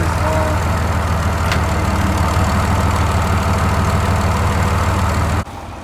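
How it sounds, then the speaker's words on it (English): A tractor engine idles close by with a low, rumbling drone that runs evenly, then abruptly drops away near the end. "I'm going to take the tractor and I'm going to push the log"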